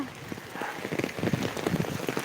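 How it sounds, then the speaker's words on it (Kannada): Steady rain patters on a surface, a dense crackle of drops close by with no clear talking. "ಮಳೆ ಇದೆಯಾ ಹೌದು ನೋಡಿ ಮಳೆ ಇದೆ"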